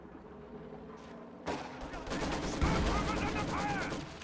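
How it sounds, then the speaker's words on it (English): A 120mm mortar barrage in a tank video game lands in a dense run of booming impacts after a quieter lead-in, building into a sustained rumbling wall of explosions. "This is barrage, 120mm mortar. Look at all this indirect fire coming down on that capping spell."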